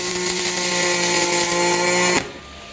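A HTP Pro Pulse 220 MIG welder lays a bead on frame liners with a loud, steady buzzing hum that stops abruptly near the end.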